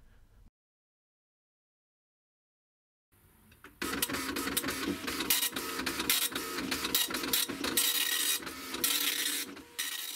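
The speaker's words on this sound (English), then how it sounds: "This is NLQ, or near letter quality mode, on the printer, and as you can see, it's much better than draft, but obviously slower." Dot-matrix printer running in near letter quality mode, printing a ZX Spectrum word processor document: after near silence, a dense, loud, continuous rasping chatter of the print head with brief pauses as lines advance, close and alone.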